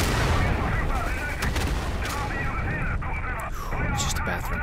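An artillery carpet barrage in the World War II shooter Day of Infamy, a dense, continuous rumble of heavy booms and gunfire, loud and sustained, with a player talking over it.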